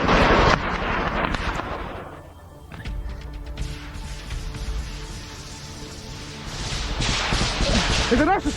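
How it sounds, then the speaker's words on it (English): Battlefield gunfire and artillery from friendly forces during a trench assault with a Leopard tank, loud sharp cracks and booming blasts at the start and end over sustained rattling noise and mechanical din. "Это наши стреляют!"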